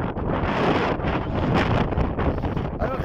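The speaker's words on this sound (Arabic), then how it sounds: "هوا شديد جدا" Very strong wind in the Belbeis desert buffets the microphone with loud, gusting roars and rumbling that swell and ease over a few seconds.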